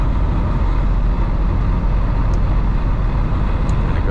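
A 1979 Ford Thunderbird on the road gives a steady, loud low engine and road rumble from inside the cabin as it kicks down and shifts into third, with no clear break.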